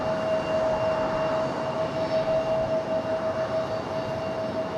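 A Boeing 757 jet readies for departure at Raleigh-Durham airport, giving a steady, fairly loud broadband engine roar with a sustained high whine held across the whole stretch, no voices.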